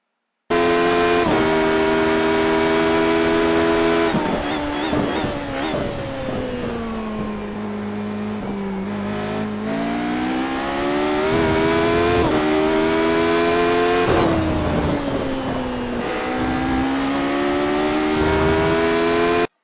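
A Radical race car circles Laguna Seca in a sim racing game, its high-pitched engine whining loud and steady, pitch rising and falling through gear changes, braking and corner exits throughout.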